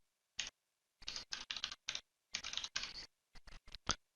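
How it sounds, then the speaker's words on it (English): Bursts of close typing on a computer keyboard, short clusters of quick key clicks separated by pauses, while entering a server node name during a SQL Always On setup for Citrix databases. "we'll type in node2.carmo.com"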